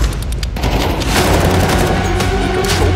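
Rapid, dense pistol gunfire from a Glock in the video game CS2, a near-continuous burst of sharp shots lasting about three seconds at steady, loud level.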